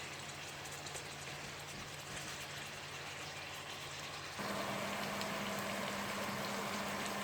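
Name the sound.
chicken burger patties frying in pan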